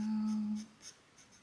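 A pastel pencil scratches softly over paper while sketching a bird's wings, with faint short strokes under a brief hum.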